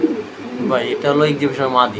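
King pigeons and other pigeons at a pigeon farm coo softly nearby in low, throaty warbles, mixed with close bird calls and some background voices.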